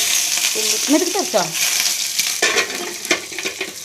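Mustard seeds sputter and crackle as they fry in hot oil in a pan for a beetroot stir-fry, a steady sizzle broken by sharp pops and a scraping stir, while someone speaks briefly partway through.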